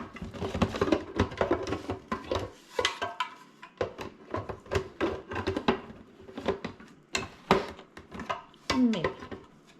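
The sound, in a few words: mixing pizza dough with sugar and kosher salt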